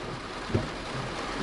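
Heavy rain during Hurricane Ian in Miami, a steady dense wash of downpour hissing without pause, with a couple of duller low thumps mixed in.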